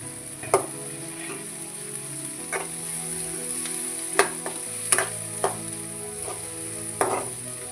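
Raw green peas fry in a pan with a steady, close sizzle, broken by repeated scraping and tapping of a spatula as they are stirred.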